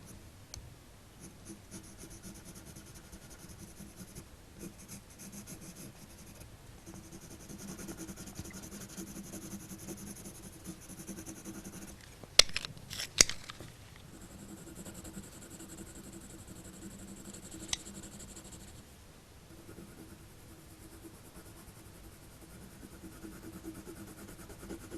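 Coloured pencil scratching across paper while tightening an edge, in short repeated strokes, close and quiet, with a faint low hum in the background.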